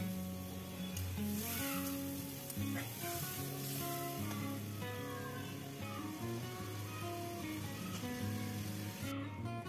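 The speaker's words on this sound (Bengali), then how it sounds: "একটু জল দিয়ে খুব ভালো করে কষিয়ে নেব মশলাটাকে আলুর সাথে" Spice paste and potatoes fry in oil in a pan for a Bengali katla fish curry with cauliflower, giving a continuous close sizzle that runs unbroken throughout.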